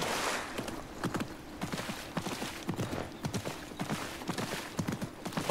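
Horse hooves clopping in a steady walking-to-trotting rhythm while riding in Assassin's Creed Mirage, a quiet, close series of dull thuds continuing throughout.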